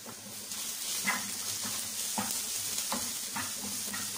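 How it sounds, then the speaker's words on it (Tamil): Spices with turmeric, chilli and cumin powder and ginger garlic paste sauté in a pan, giving a steady close sizzle with soft scraping stirs recurring about every half second, no talking. "இது எல்லாத்தையுமே நல்லா வந்து சால்ட்டே பண்ணிடுங்க."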